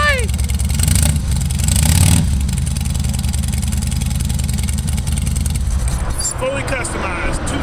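A fully customized 2001 Harley-Davidson Fat Boy motorcycle fires up close by and settles into a loud, deep, lumpy idle, with a brief rev near two seconds before the rumble continues steadily.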